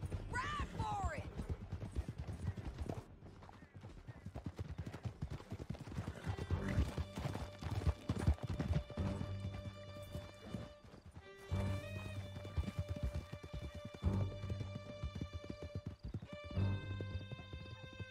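Horses galloping through a canyon, their rapid clip-clop hoofbeats mixed with neighs and whinnies while voices talk over the ride.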